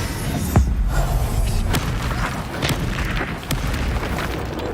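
A deep, rumbling blast from the Bombarda explosion spell in Hogwarts Legacy, loud and sustained with a muffled boom and echoing debris, no talking over it.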